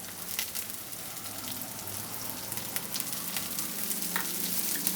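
Carrots and beans fry in oil over already browned onions for mixed fried rice, a soft steady sizzle with occasional crackles and stirring clicks, close and quiet.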